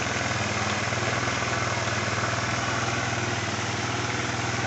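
A carburetor-to-fuel-injection converted Scoopy motorcycle engine idles steadily with no throttle cable attached, a close, even putter that keeps the same pitch and loudness throughout, without speech.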